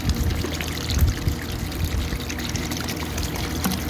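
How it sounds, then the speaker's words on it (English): Most of a gallon of vinegar pours outdoors over calcite blades in a container, a continuous, fairly close glugging and splashing stream without pause and without speech. "use probably most of this gallon of vinegar"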